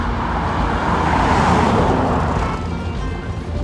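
Steady road noise from cars driving in tandem convoy, a continuous broadband rumble and tire roar heard from inside a vehicle, slightly easing toward the end.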